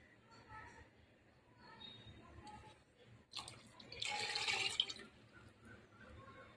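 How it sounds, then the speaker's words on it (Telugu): Water poured into a cooking pot while making vegetable biryani, a short splashing gush rising partway through and lasting about a second, close by, with faint talk and kitchen clatter around it. "ఇంకో 1/2 వాటర్ అయితే వేస్తున్నాను"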